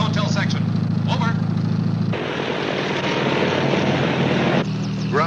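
An observation plane's engine drones with a steady, loud hum throughout, with a voice talking over it as if through a radio.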